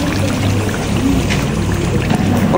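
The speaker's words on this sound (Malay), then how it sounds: "Okey, kita dah tumis, kita masukkan lagi air." Water poured into a cooking pot of fried spices makes a steady, loud rushing pour with a low, churning bubbling beneath, continuous throughout, with no talking.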